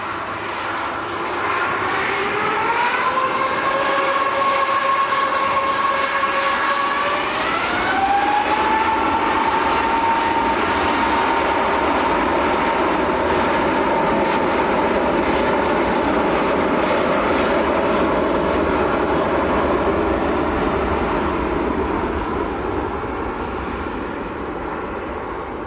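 An Airbus A321neo jet at Manchester Airport turns onto the runway and powers up for takeoff, engines rising in pitch into a loud, sustained roar that stays strong throughout.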